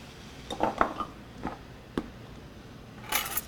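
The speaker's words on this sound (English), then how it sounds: "We're going to add our 2 cups of carrots." Carrots tumble into a pot of browned pork with a few light clattering taps and scrapes of metal and utensils, quiet and intermittent, with a brighter clatter near the end.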